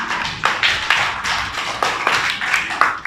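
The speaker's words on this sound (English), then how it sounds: "Clap for Aima." Young playgroup children clap in a classroom for a classmate, a loose, uneven patter of close, sharp claps with several distinct accented hits and no talking.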